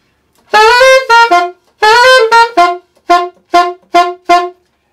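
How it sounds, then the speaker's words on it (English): Several saxophone notes play loud and close, each stopped abruptly by the tongue halting the reed; a few longer tones give way to a run of short, evenly spaced clipped notes. "I tongue the beginning of the note and I stop the reed's vibration"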